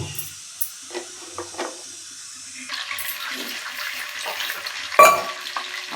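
Sesame oil heating in a pan for tomato thokku, a quiet sizzle with scattered small pops that swells into a fuller hiss partway through, capped by a sharp clatter near the end.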